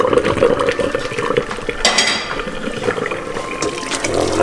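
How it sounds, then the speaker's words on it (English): Cooked ramen noodles are drained into a strainer: a steady rush of pouring water splashing in a metal sink, with light clatter of pot and utensils, close and fairly loud. "Now our noodles are done, so we're going to take these off and we're going to strain them."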